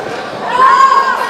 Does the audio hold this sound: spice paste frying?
no